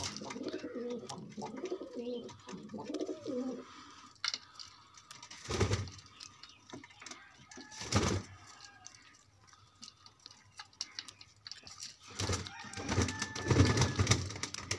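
Pigeons kept for sale coo and call near and far, with scattered sharp knocks and bumps among the birds, and brief louder rustling bursts throughout.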